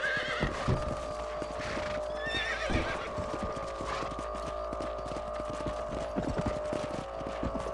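Steady clip-clopping hooves run throughout, with a horse neighing near the start and again midway, over a low constant hum, from the video game Red Dead Redemption.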